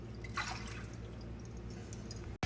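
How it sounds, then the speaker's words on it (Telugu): Water poured from a bowl into a cooking pot while making a homemade sweet, a steady close splashing pour that runs for a couple of seconds and then cuts off abruptly. "3 కప్పులు నీళ్ళు అని చెప్పాను కదండి, ఇదో పోసేస్తున్నాను."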